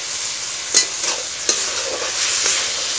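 Pumpkin frying in a pan hisses with a bright, steady sizzle, with a few quick scraping stirs of a spoon on the pan's surface.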